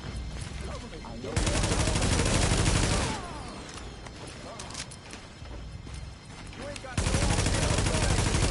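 Rapid bursts of automatic gunfire in The Division, played on PS5, crackle loudly in two dense stretches with quieter scattered shots between, while a voice talks over the fighting.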